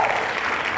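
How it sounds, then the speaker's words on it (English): A brief burst of live hand clapping from a crowd, with dense, steady applause filling the short moment. "Can we get a live hand clap?"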